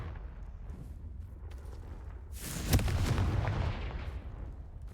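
Confringo and Bombarda spell blasts in the Hogwarts Legacy video game on PS5: a sudden heavy explosive boom with crackling rumble that swells and fades over about a second and a half against a low steady game background.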